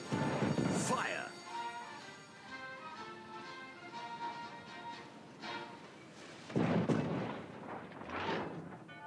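Heavy battleship artillery booms in a naval video game, a loud burst near the start and another deep blast a few seconds later, set over music and voices talking.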